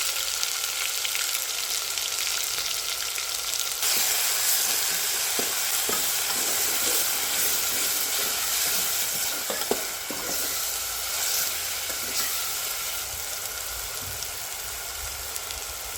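Green chillies, ginger-garlic paste and coriander seeds fry in a pan for Kolhapuri kat vada, a dense, constant hiss like rain, with occasional spoon scrapes and taps, close and unbroken by speech.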